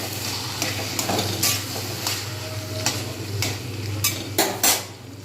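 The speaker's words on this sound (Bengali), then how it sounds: "এবারে দেব পরিমাণ মতো নুন আবার একটুখানি নেড়ে দেবো" Eggplant mash being stirred with salt in a pan, a spoon scraping and clinking against the metal in irregular strokes over a low steady cooking hum, close and moderately quiet.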